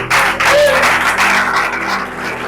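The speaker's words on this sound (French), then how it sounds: "Est-ce que tu peux applaudir pour Jésus?" A church congregation at a Sunday worship service applauds, a loud, close wash of clapping with a steady low hum beneath it.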